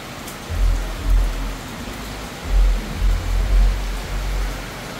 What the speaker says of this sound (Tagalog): medyo malakas na yung ulan